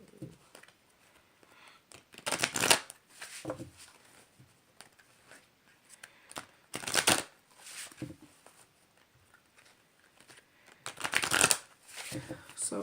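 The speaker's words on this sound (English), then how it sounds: "I do have a shuffling process, so it can take me quite a little while." Oracle cards from a Wisdom of the House of Night deck shuffled by hand in three loud, crisp riffling bursts separated by quieter handling, with soft talk in the background.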